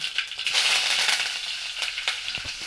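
Curry leaves hit hot coconut oil with a loud, hissing sizzle that surges at first and then settles into steady frying with a few sharp pops, heard up close.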